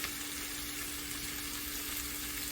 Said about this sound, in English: you're just going to let this saute, stir fry or whatever for a minute or so